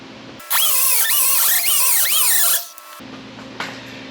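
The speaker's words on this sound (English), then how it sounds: "mark my spots so that I can just grind the paint off here" A power grinder strips paint from a steel Firebird taillight panel, giving a loud, harsh, squealing grind with a wavering pitch that runs for about two seconds and then cuts off, leaving a low hum.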